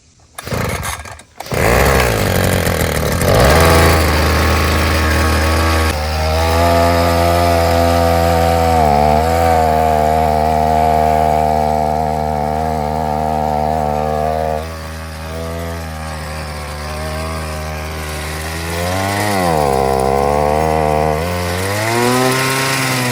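A worn-out pocket bike's small gas engine is pulled into life and then runs loud and close, its buzzing drone wavering and dipping as it bogs, then revving back up unevenly, with no talk over it.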